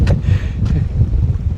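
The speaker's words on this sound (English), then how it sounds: "Oh, that wind is absolutely freezing." Strong wind buffets the microphone on a sea breakwater at Holyhead, a loud continuous roar with low gusty rumble and a couple of sharp hissy bursts.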